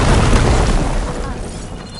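A loud, close explosion blasting through a wall in Horizon Forbidden West, a heavy low boom with a long rumbling decay that fades over about two seconds, no talking over it.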